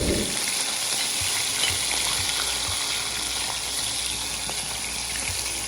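A steady, dense sizzle of fish cooking over an open fire runs without a break, loud and close, with faint clicks underneath, on an island in Portland, Jamaica.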